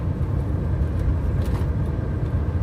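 A car with a turbo engine climbs a hill at low revs without much throttle on a newly built road in Satun, Thailand; a steady, close, low engine rumble with road noise continues throughout, with no talk.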